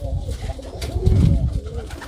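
Old-breed village pigeons give low, throaty coos close by. Faint voices can be heard in the background.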